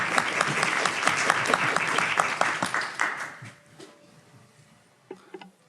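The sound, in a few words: audience applause after talks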